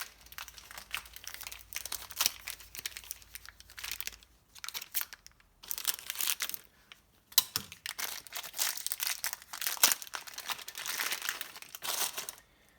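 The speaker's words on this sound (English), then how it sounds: "Let me cut this bag open." Plastic bag being cut and torn open at a workbench during a Sea-Doo Speedster Mercury Sport Jet rebuild, close, intermittent crinkling and rustling bursts with short pauses between them.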